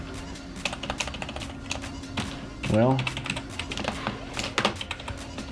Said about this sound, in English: So I'm gonna go ahead and type something.